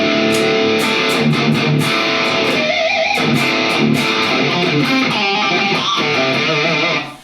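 A distorted electric guitar through a BIAS amp simulator plays heavy chugging riffs and chords, loud and close, with brief pauses between phrases and no talking.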